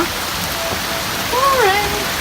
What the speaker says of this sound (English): It's actually just pouring down right now.